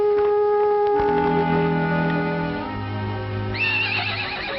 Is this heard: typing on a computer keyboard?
no